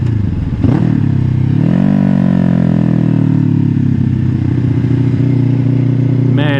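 A motorcycle rides along a road toward town, its engine a steady, loud drone close to the mic, rising in pitch as it accelerates, with wind buffeting and a brief clatter near the start.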